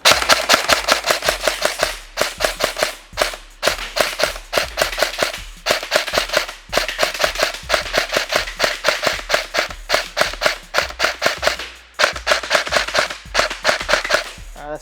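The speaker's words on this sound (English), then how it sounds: "Let's see how it shoots. Okay, so I've got it on single shot right now." Gel blaster rifle firing on single shot, a rapid string of sharp, loud cracks in quick succession with brief pauses between bursts, close by and with no talking.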